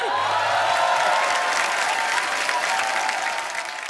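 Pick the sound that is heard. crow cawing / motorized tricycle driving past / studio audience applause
studio audience applause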